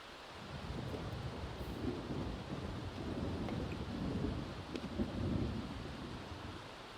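A video game storm plays as steady rain and low rumbling thunder, a dense, even wash of weather noise that rolls on without breaks and without any voices over it.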